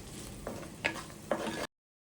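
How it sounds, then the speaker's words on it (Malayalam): Onions with salt sautéing in a pan for a traditional Kerala dish, a soft steady sizzle with a few scraping stir strokes, then cutting off abruptly. "കുറച്ച് ഉപ്പും കൂടി ഇട്ട് നന്നായിട്ടൊന്ന് വഴറ്റിയെടുക്കാം"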